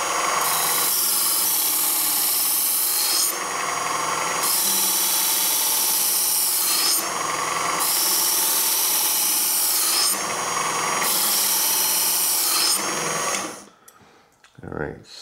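Power grinding strips metal from the bevel of a Spyderco Spyderfly balisong knife: loud, rasping passes repeat roughly every three seconds, then cut off abruptly near the end.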